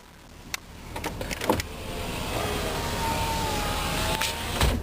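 Electric whir of the power windows or mirrors on a 2003 GMC Sierra 2500 HD, running steadily for several seconds inside the cab after a few clicks, close and fairly loud, with no speech.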